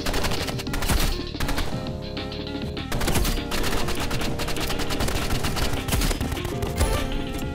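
Burst rifle gunfire from the Roblox game Rivals, with rapid, dense volleys of shots running steadily through the whole stretch amid loud game sound and music, and no talking.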